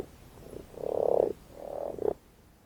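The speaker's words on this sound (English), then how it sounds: "common frogs, and more specifically, the deep croaking sound they produce" Deep, drawn-out croaks of common frogs, two long rasping calls followed by a short sharper croak, close and clear against a quiet background with no voices.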